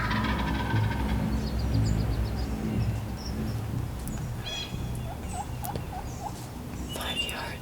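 A wild turkey gobbler gobbles from a distance during a spring hunt, holding back while a hen has come close, with several short calls rising over steady outdoor background noise and other birds chirping.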